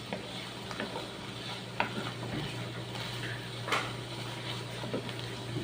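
A spoon stirs an omelette mixture with onion, making soft clicks and scrapes against a bowl over a low, constant sizzle of a pan frying nearby.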